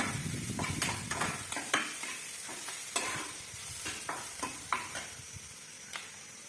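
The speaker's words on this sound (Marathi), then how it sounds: "मी लसूण अद्रक आणि थोडस खोबरं बारीक केलेलं आहे ते पण चांगलं परतून घ्यायचं" Finely chopped garlic, ginger and a little coconut sautéing in a pan, with a steady close sizzle broken by repeated scraping stirs of a spatula, and no talking.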